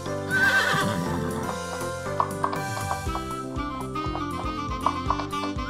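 A cartoon horse at an amusement park with a jumping barrier lets out a loud, close whinny over bright background music, followed by light clip-clopping hoofbeats.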